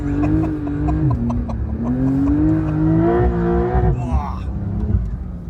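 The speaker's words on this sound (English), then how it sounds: "Oh, the car sounds pretty good." A Porsche 992 Dakar sports car accelerates through deep snow, its engine note climbing and shifting through several gears from the cabin, loud and continuous, with people talking over it.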